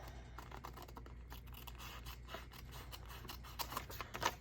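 Scissors cutting a paper coin envelope template, with a run of soft close snips and scratchy paper rustles that grows louder and more clustered toward the end.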